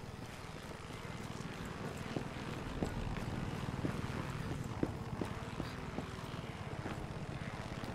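A steady, rumbling Far Cry 6 video game helicopter drone with rhythmic rotor chop, heard throughout and fairly close, with a few faint clicks on top.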